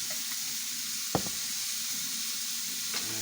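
Cumin powder and other spices fry quietly in a pan with a soft, even sizzle, broken by one sharp knock of a utensil against the pan as they are stirred.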